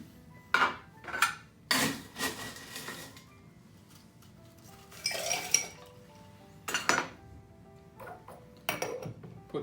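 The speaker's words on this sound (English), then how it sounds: "Now what we need to do is add ice." Ice clatters into a metal cocktail shaker for an elderflower gin cocktail, bursts of clinking and rattling separated by quiet gaps, close and bright.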